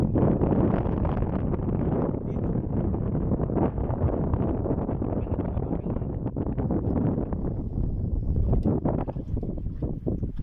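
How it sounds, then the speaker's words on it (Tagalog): Wind buffets the microphone in a continuous, rough roar, loud and close throughout, while squid fishing in Australia. "Hangin."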